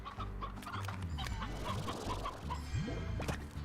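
Chickens in the video game Slime Rancher cluck repeatedly in short, bouncy bursts, close and clear, over game ambience with a few rising whooshes.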